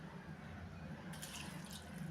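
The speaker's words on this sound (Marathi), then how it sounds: "आता यामध्ये आपल्याला पाणी घालायचं आहे" Water pours onto grated potato in a bowl, a quiet trickle that swells into a brighter splash of running water partway through.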